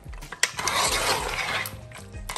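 Meat and mixed curry spices for a meat and potato curry being stirred in a pot, a dense clattering scrape with a sharp spoon knock near the start and steady mid-level stirring throughout, no talk.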